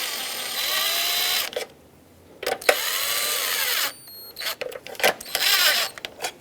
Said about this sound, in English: Hold this and tighten down the mounting nuts